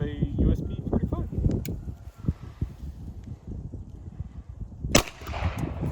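A .45 ACP 230 grain round fired from a USP 45 pistol strikes an Austrian M75 steel helmet outdoors: one sharp, loud report near the end, after a stretch of people talking and wind noise.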